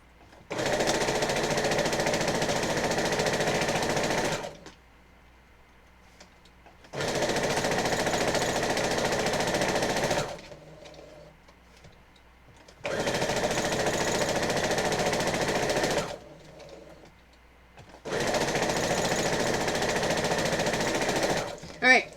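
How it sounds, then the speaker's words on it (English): A sewing machine stitches quilt rows in four long loud bursts of rapid mechanical chatter, each lasting several seconds and separated by quiet pauses, close to the listener, with a voice speaking at times. "We're going to keep sewing that next row."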